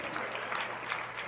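Scattered, partial audience applause from a live comedy podcast crowd, a brief patch of clapping that stays fairly soft and uneven.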